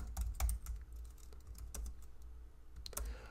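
Typing on a computer keyboard, quiet close clacks of keys pressed in short irregular bursts with brief pauses, alone without speech.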